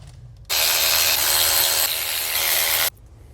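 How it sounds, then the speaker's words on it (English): A power tool, likely an impact driver, spins off bolts at the top of a Mazda Miata clutch housing in one steady loud burst of about two and a half seconds, with quiet before and after. "now I'm gonna take off those 4 bolts at the top to get that gasket behind there"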